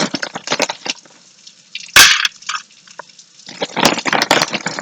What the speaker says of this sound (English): I'm going to take my chip box here. Throw some more chips in there.